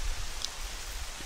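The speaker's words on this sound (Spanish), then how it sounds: "No puedo poner la estatua porque está lloviendo. Sigue lloviendo." Steady rain falling in the video game The Legend of Zelda Twilight Princess, an even hiss of a downpour with no other sound standing out.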